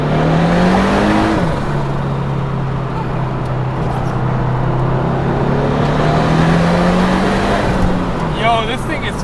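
A twin-turbo Datsun 240Z, a sleeper build, accelerates hard through its gears. The engine note climbs loudly and steadily, drops briefly at a shift, then rises again under a sustained roar. Tire noise comes in near the end.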